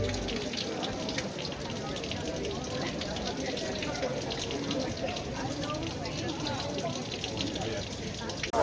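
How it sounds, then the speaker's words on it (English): Water splashes and runs steadily from the Amalfi fountain in Dubrovnik, a continuous close wash of falling water from start to end with faint background voices underneath. "behind us is the Amalfi fountain"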